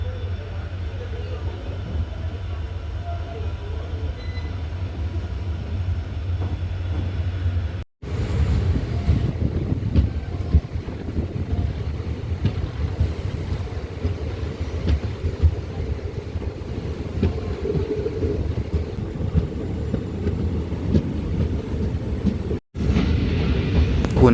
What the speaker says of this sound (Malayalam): തെന്മലയിൽ നിന്ന് ട്രെയിൻ എടുത്തു.